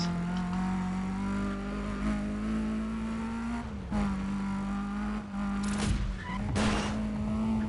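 A car in the video game Need for Speed Undercover revs with a steady, loud engine drone, the pitch dipping and climbing through gear changes, broken by tyre skids and squeals toward the end.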